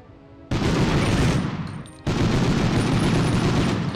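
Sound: gunshots in the video game Medal of Honor

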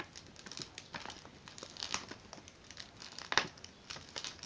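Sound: peeling a sticker off a plastic envelope

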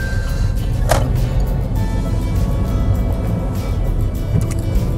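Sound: manual car pulling away while shifting gears

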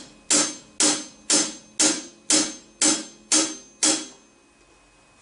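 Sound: hi-hat cymbal beat on a drum set

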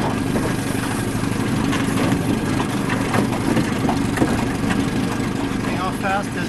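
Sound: fishing boat engine on a lake

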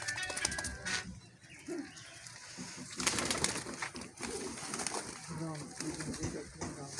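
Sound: Sialkoti pigeons cooing

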